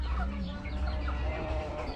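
A flock of Rhode Island Red chickens clucks and murmurs continuously at close range while feeding on cabbage, over a steady low background rumble.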